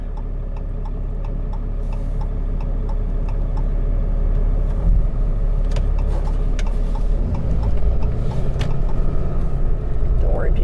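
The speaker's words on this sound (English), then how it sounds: "I got a car coming up behind me" Car approaching from behind on a road, a low engine rumble building steadily and growing louder over about ten seconds, with a regular ticking from inside the stopped vehicle and someone talking.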